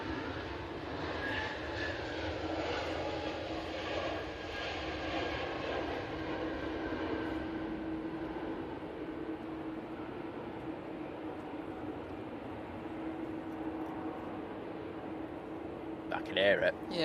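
Aircraft approaching an airport, a faint distant engine rumble building slowly and steadily, with voices talking over it and a brief clatter at the end.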